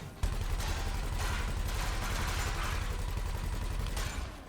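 Rapid automatic gunfire from a gimballed ship weapon in a video game, a dense continuous rattle of shots for several seconds, fairly loud and steady with no talk over it.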